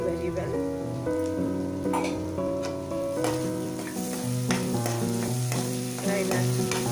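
Crushed ginger stir-fried with onions for Gobi Manchurian, a dense steady sizzle with scraping stirs in the pan, close and continuous, and faint background music.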